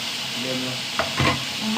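Tomatoes sautéing in a pan: a close, continuous sizzle with a few scraping stirs of a utensil against the pan, and faint voices in the background.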